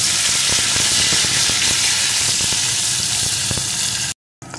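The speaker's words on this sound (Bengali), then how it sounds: "এখন আমি এর ভিতরে দিয়ে দেবো একটা পেঁয়াজ কুচি। পেঁয়াজ কুচিটা একটু ভেজে নেব।" Chopped onion frying in hot oil for a masala crab curry, a steady loud sizzle with scattered pops and crackles, ending in a brief silence.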